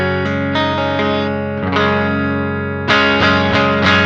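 Electric guitar played through a Tallon Electric Dual Drive pedal with its gain turned slightly down for a cleaner tone, ringing chords restruck every half second or so, with a louder attack near the end.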